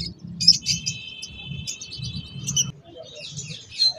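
Caged diamond doves and finches at a bird shop chirp and tweet in quick high bursts, with a soft low cooing underneath, close and fairly clear.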